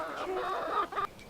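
Chickens clucking close by on a rural property with horses, a short run of busy, rising and falling clucks lasting about a second, with no talk over them.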